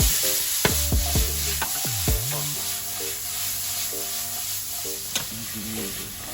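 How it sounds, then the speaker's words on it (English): Jerk loaf ingredients sizzling and frying in a hot pan, a loud steady crackle with several scrapes and stirring clatters of a utensil against the pan. "Let that sizzle."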